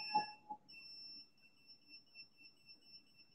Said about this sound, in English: there will be 20 seconds buzzer ring